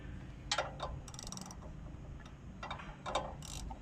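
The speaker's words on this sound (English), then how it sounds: "my right hand is keeping my socket square onto the bolt" A socket wrench ratchet loosens bolts on a Power King chipper shredder with a 14 HP Kohler CH440 engine, making short bursts of close metallic clicking that stop and start over low background hum.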